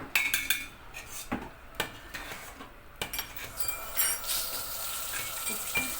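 A spoon clinks and scrapes against a metal pot as sugar is spooned into cinnamon-stick rice pudding, giving a run of close, sharp clatters with brief pauses and no voices.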